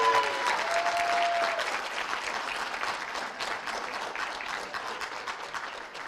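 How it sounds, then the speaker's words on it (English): Audience applause for a girls' high school bowling team, Ohio Division I state champions, a dense, steady clapping that starts strong and slowly tapers off, with a brief tone at the start. "How about a round of applause?"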